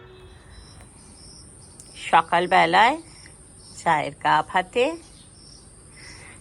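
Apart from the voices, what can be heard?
crickets chirping at night in a village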